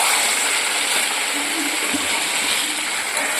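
Hot water poured into a pot of cooking meat curry gives a steady, loud rushing splash that runs without break, close to the pot.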